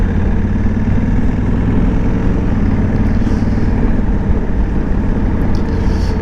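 A Honda NT1100 twin-cylinder motorcycle engine while riding in sixth gear in its most powerful engine mode, with a loud, steady, close drone that holds without a break.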